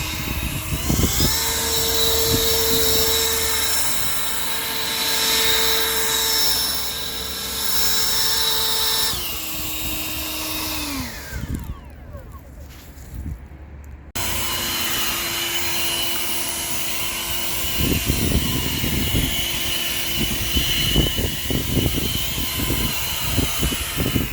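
An EGO variable-speed cordless electric leaf blower runs at turbo speed, a loud steady high-pitched whine and rushing air that ramps up and down between settings, then holds at full power.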